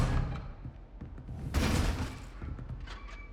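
An Expelliarmus disarming spell cast in the Hogwarts Legacy game, a sudden bright burst with a crackling rush that fades over about half a second, heard amid softer combat thuds and effects.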